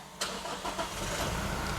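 A 2018 Toyota Fortuner 2.4 diesel SUV engine is push-button started, cranking and catching, then settling into a steady idling rumble, close and fairly loud.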